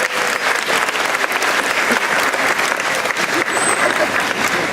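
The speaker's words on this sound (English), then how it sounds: "Let's get a round of applause for Ella for being our helper." Loud, dense applause from the crowd at an aquarium beluga whale and dolphin show, sustained and even for several seconds with faint voices mixed in.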